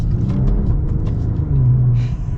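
A 2023 Maserati Quattroporte engine in manual sport mode pulls hard with a steady low rumble and a rising drone near the end, heard from inside the car with no talking.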